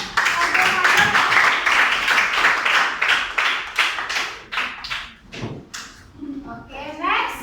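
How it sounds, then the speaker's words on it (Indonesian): Children in a classroom clap together in a rhythmic burst that fades into scattered claps, with kids' voices chattering throughout. "Silakan tepuk tangannya untuk Gumayun."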